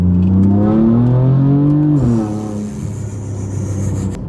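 A 2015 BMW M4 engine with an aftermarket exhaust revs up loudly with a deep, throaty exhaust note, then drops and settles into a lower, rumbling idle.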